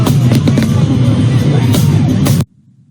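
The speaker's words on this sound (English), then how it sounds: "I hear the fireworks crackling" Loud fireworks crackle and pop densely over a low boom and crowd murmur, then cut off abruptly into near silence.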